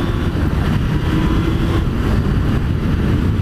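A 1998 Suzuki GSX-R750 SRAD inline-four motorcycle on the move gives a continuous loud roar, heavily mixed with wind rush across the microphone, steady throughout.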